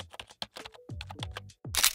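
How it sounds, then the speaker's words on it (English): Typing on a Logitech Bluetooth keyboard, a quick irregular series of close, soft key taps with a brief louder burst at the end, no voices. "I decided to upgrade to these Logitech keyboard and mouse because it connects via Bluetooth"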